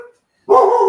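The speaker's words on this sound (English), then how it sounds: "It's my dog." A pet dog gives one loud, sustained bark-like yelp up close after a brief moment of quiet.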